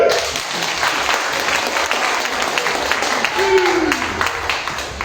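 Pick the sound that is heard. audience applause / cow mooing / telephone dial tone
audience applause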